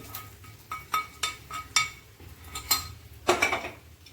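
A spoon clinks repeatedly against a dish while a sweet of flattened rice (aval) and banana is mixed, giving about ten sharp, evenly spaced taps up close with no talking.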